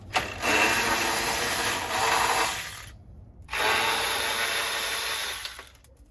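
A power tool whirs loudly in two sustained bursts with a short gap between, removing headlight bolts from a Nissan 370Z with the bumper already off, close and steady.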